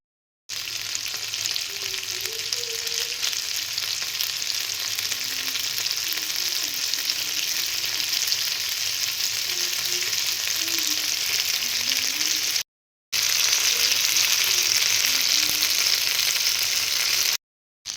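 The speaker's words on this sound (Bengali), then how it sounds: "এত গরম চাটে তো আমার সব চিকেন সাটা ধরে গেছে" Chicken satay sizzling steadily in a very hot pan, a dense continuous frying hiss with a brief break partway, with no talking.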